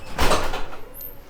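A restaurant's new entrance door swings open with a short soft thud and a brief rushing sweep, ending in a faint high squeak, at a pizza and bowling venue.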